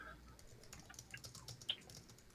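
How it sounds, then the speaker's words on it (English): Quiet, rapid clicking of someone typing on a computer keyboard, soft irregular keystrokes with a few sharper taps, close and faint in a still room. "Still typing."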